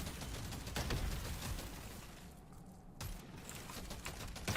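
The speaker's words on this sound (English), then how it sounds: "Look at how fast our guns are firing." Rapid, continuous automatic gunfire from weapons in the mining shooter game Deep Rock Galactic Survivor, a dense stream of fast shots at moderate volume with a brief lull midway.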